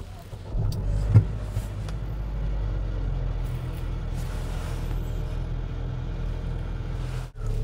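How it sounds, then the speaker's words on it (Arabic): A 2024 Ford Territory Titanium SUV is started from inside with its push button. A low, steady engine rumble and idle hum carry through the cabin with no speech, and a brief dip comes near the end. "خلونا نشغل فورد تيريتوري من الداخل"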